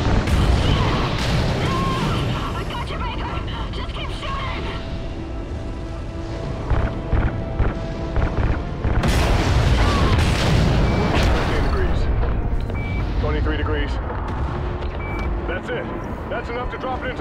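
Gunfire and explosions hitting fuel lines in Call of Duty: Ghosts, a dense, loud, continuous barrage of booms and bursts with sharp pops, heavy throughout and mixed with game voices.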